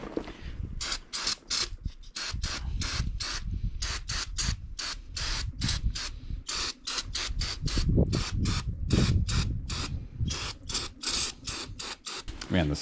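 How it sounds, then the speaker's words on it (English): Brake parts cleaner is sprayed onto a Polaris Switchback 600 snowmobile chain case in many rapid hissing bursts, close and loud, continuing throughout in a choppy rhythm. "Blast it with some brake parts cleaner."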